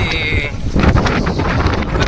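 Strong wind on the Kanyakumari seashore buffets the microphone with a loud, steady, gusting roar that fills the whole moment.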